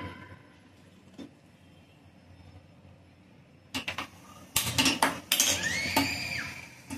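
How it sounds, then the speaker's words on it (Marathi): A metal grate is set onto a gas stove burner before roasting a whole bottle gourd. After a quiet stretch, a close burst of metallic clanks and rattles follows. "गॅसवर जाळी ठेवली."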